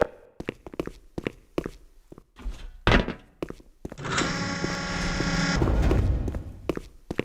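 In the Black Mesa Hazard Course, a room door in the game's training facility grinds open with a sustained mechanical rumble and hum, preceded by a series of sharp footsteps and thunks close by.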